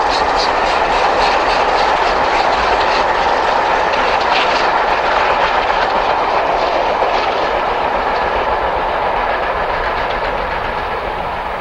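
A British steam locomotive hard at work passes on the line toward Winchester after Battledown flyover, its loud, steady rumble and rhythmic clatter close and continuous throughout.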